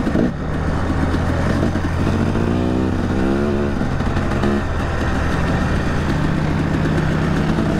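Off-road motorcycles on a muddy trail loop at a recreation area, engines steadily droning and rising in pitch as riders get on the throttle through corners, loud and continuous with rev swells throughout.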